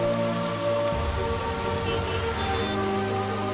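Steady rain pours down outdoors with an even, hissing patter, continuous and close, and a low tonal hum runs underneath.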